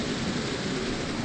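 Heavy rain pours steadily with a deep thunder rumble in a dark, waterlogged setting of the horror video game Project Zero: Maiden of Black Water, a dense continuous wash with no voices.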